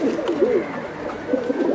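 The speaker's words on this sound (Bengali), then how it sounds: "হ্যাঁ নরমাদি দুইটা অনেক সুন্দর কবুতর, খুবই সুন্দর।" Pigeons, a male and female pair, coo close by in soft, warbling, repeated phrases over a low background hum.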